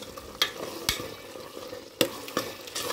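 Mutton pieces fry with a steady sizzle in a pan while a spoon scrapes and stirs, giving four sharp clacks against the metal spread over a few seconds.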